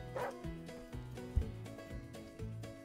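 A dog in The Sims 4 animal shelter game, giving a run of rhythmic yips and barks, close and fairly quiet, with a faint whimpering tone.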